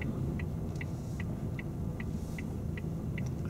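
A car drives slowly up to a give-way line on a side road, a steady low engine rumble from inside the cabin with a soft, regular ticking, likely the indicator, repeating about twice a second.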